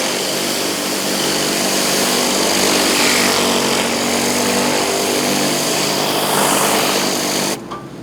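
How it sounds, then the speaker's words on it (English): Steady, continuous hiss of a pressure washer spraying hot water, with the low hum of a quietly running generator beneath, loud and unbroken until it drops off abruptly near the end. "All you hear is the generator running just a little bit."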